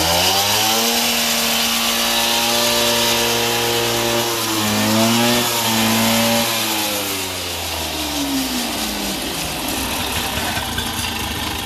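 A 75cc Caloi Mobylette moped engine runs loudly and steadily, revving up and down with shifting pitch before settling into a rougher, uneven idle.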